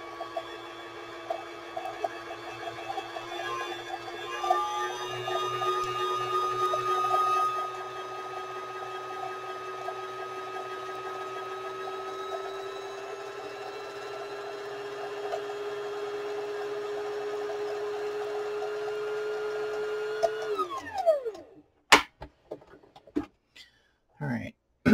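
A sewing machine winds a bobbin with a steady, high mechanical whir that holds for about twenty seconds and then spins down, followed by a few light clicks and taps as the bobbin is handled.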